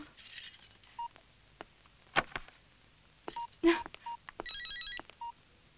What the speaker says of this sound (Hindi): मैं फिर से कमिश्नर साहब को फोन लगाता हूं।